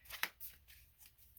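Tarot cards being shuffled in quick bursts of papery riffling, a sharp flurry near the start followed by softer intermittent swishes, close and fairly quiet with no voices.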